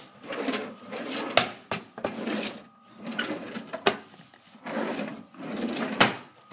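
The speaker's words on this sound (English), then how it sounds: "Cutlery drawers," A kitchen cutlery drawer slides open and shut several times in a row, each rolling scrape ending in a sharp knock, close by in a quiet room.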